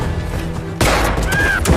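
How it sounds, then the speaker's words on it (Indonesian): Gunfire in a tense winter thriller film scene, a sudden loud blast that cuts in sharply and stays dense and roaring, with a shrill tone and further thuds following close behind. "tepat saat Yuli tertembak pada bagian kaki"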